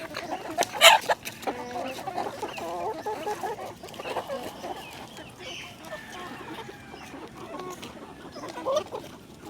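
Chickens cluck steadily while eating feed of rice and jackfruit, a dense layer of close, overlapping clucks and soft calls with one brief louder squawk near the start, no talk.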